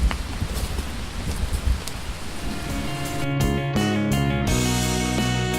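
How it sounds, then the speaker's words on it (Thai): Steady rain patters and hisses across the surface at a waterfall in the forest, continuous throughout, with a rustle of leaves and a faint bird in the background. "ตอนนี้นะครับฝนกำลังตก"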